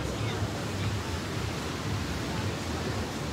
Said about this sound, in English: these waves at night are vicious.